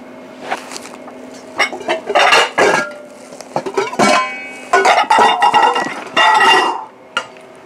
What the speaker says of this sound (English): I'm going to crumble these up in a bowl